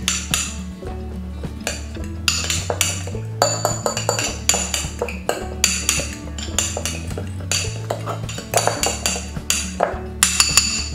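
A fork stirs cornstarch and water in a bowl, making rapid, rhythmic metallic clinks and scrapes against the bowl throughout, close up with no talking.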